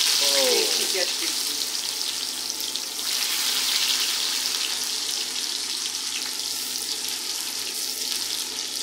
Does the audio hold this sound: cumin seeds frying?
yes